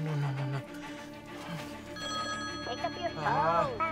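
An electronic phone ringtone chirps in a warbling pattern over a couple of seconds, with people talking nearby throughout.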